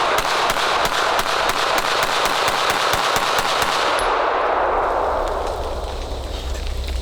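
A compensated Hellcat Pro carry pistol fires a fast, rhythmic string of about fifteen sharp shots outdoors, ending abruptly into a fading roar of wind or rumble.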